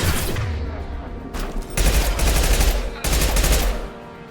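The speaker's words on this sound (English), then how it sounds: "Taking fire." Rapid automatic gunfire from a Mass Effect 2 firefight, loud sustained bursts with short gaps between volleys and heavy low booms underneath.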